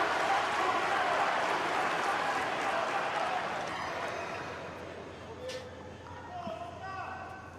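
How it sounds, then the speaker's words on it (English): A large crowd applauds at a tennis match in Pat Rafter Arena, Brisbane, a dense, steady roar of clapping that slowly fades. Faint speech and scattered sharp sounds follow as the applause dies down. "Big crowd in here at Pat Rafter Arena."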